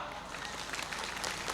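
Applause from assembled troops at a military ceremony in Lamongan: a brief dense patter of many hands clapping at moderate distance, mixed with crowd murmur and a voice.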